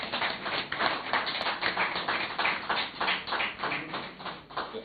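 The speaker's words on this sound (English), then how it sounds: "Oh, I thought you would clap for the committee." An audience at a business committee presentation claps: a modest round of applause from a small group, the claps rising and falling in uneven bursts, fairly faint and slightly distant, without voices.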